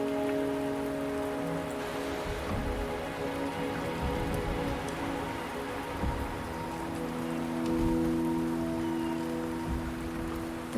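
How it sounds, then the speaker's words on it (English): Rain in the video game Wuthering Waves, a soft, steady downpour hissing evenly over a faint low ambience, with scattered drip ticks and no speech. "The rain is subsiding, and the sky will soon clear."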